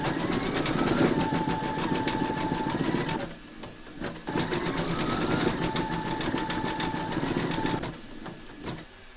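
An embroidery machine stitches round the buttons of an appliqué scarecrow's dungarees in a steady, close, even whir. It runs in two long bursts with a brief pause between them.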